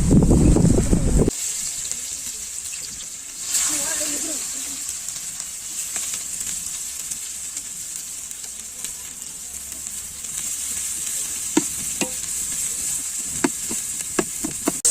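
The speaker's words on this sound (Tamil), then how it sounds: "எண்ணெய் சூடாயிடுச்சு गाइस வெங்காயம் போட்டுக்கலாம்" Onions frying in hot oil for a chicken biryani, a steady bright sizzle running throughout after a brief low rumble at the start, with scattered clicks and pops from stirring.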